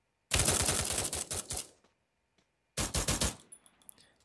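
M14 rifle fire in Free Fire comes in two rapid bursts of crisp, close shots, a longer string followed by a pause and then a shorter string, heard alone without talk.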